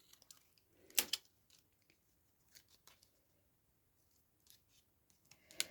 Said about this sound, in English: So I am actually going to snip that leaf off.